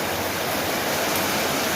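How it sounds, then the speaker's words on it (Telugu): Heavy rain pours down outside in a dense, continuous roaring wash, loud and steady throughout with no breaks and no voices. "వర్షం అయితే బాగా పడుతుంది ఫ్రెండ్స్"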